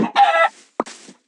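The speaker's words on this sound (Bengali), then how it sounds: "আবে মুরগি চিকেন" Chicken in a video game clucking, two short bursts of nasal clucks close and clear, with silence between and after.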